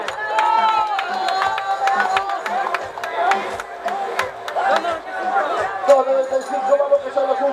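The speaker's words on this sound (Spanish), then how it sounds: "Fuerte el aplauso para ellos" Spectators cheer and clap as runners come through the finish of a 10K race, a lively crowd with voices and shouts layered over scattered applause.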